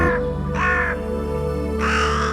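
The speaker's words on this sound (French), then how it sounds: "avec comme seul compagnon l'écho des corbeaux" Crows caw several times in harsh, drawn-out calls, spaced irregularly over a steady low background hum.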